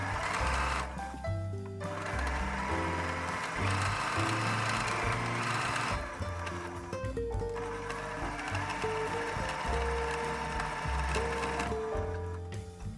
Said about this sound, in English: Stitch the bottom part following again your marked line.